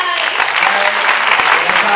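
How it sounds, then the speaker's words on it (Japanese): A crowd at a university Miss contest final claps loudly for a contestant on stage, a brief burst of dense, continuous applause that fills the room. "大きな拍手してください"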